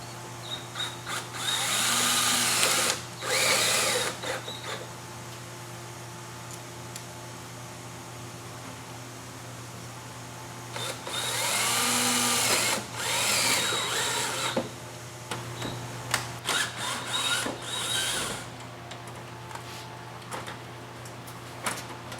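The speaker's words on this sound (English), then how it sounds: "Now these two screws we're going to go ahead and drill through from the outside in" A power drill drives screws through from the outside in, whirring in three separate close, loud bursts of a couple of seconds each, with quieter steady background hum between them and no talking.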